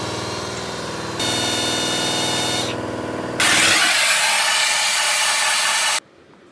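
A power drill drills into a broken bolt, running steadily with a whining motor that shifts pitch, then turns into harsher grinding noise before stopping abruptly.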